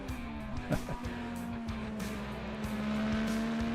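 IndyCar race cars in a racing video game at Road America give a steady, loud engine drone with a constant pitch throughout, plus brief surges and shifts in tone.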